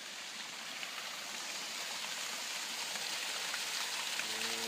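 Water pours out of a pipe at an old mine in a steady, broadband rushing flow like a small stream, constant and moderately distant, with no voices.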